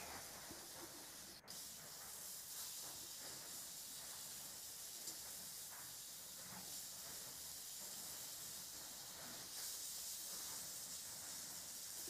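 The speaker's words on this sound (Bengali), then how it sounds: "মাছগুলিকে আমি প্রথমে মাছের মুড়োগুলিকে ভেজে নিচ্ছি" Rohu fish heads frying in oil in a home kitchen, a continuous dense hissing sizzle that holds steady throughout, close and fairly quiet with no talking.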